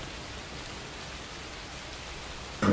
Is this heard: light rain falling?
yes